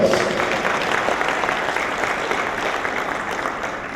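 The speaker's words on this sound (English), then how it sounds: "that deserves a round of applause" An audience at an agri-business investment forum in Jamaica breaks into sustained applause, a dense, steady wash of clapping that holds at an even loudness for the full length without speech over it.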